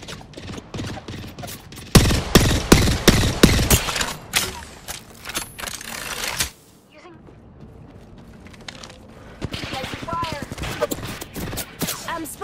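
Gunfire in the Apex Legends video game bursts out in rapid, dense volleys, loud and close. Quieter single shots and movement sounds follow, with game voice lines heard between them.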